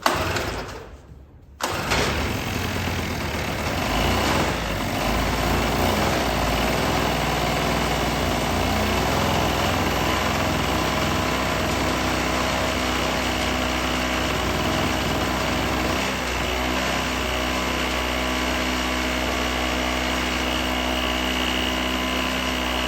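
A Chicago Electric two-stroke generator, left abandoned for ten years, catches after a brief pull and then runs on steadily with a buzzing high-pitched drone, loud and close throughout.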